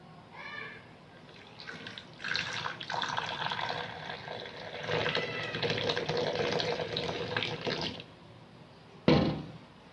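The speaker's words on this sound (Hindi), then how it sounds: "अब हम इसके अंदर चाय डालेंगे।" Tea being poured into two cups: a close, steady liquid pour running several seconds with brief pauses, ending in a short sharp knock.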